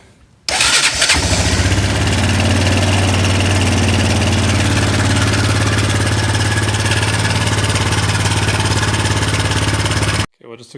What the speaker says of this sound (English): Fire it up, be a cold start.